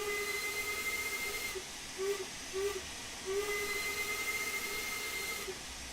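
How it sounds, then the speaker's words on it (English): Steam locomotive safety valve blowing off in Train Sim World 2, a loud continuous hiss with steady whistle-like tones that run unbroken through all six seconds, nearby, with no talk over it. "Mind you, with the safety valve going off, it's a bit annoying"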